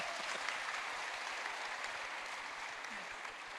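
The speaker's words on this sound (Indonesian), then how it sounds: "Kasih tepuk tangan dulu." An audience at a crypto regulation event applauds, its many hands blending into a steady, moderately quiet patter that continues without a break.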